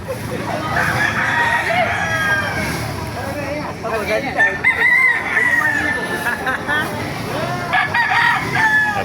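Several roosters crow repeatedly at a chicken market in Baliuag, Bulacan, overlapping one another, amid clucking hens and a busy murmur of voices nearby.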